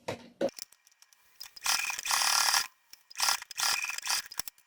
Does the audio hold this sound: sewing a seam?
yes